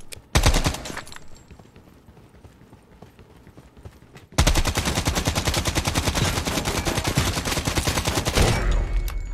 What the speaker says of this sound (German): schießt aus 1000 Metern Entfernung mit einer Pistole auf uns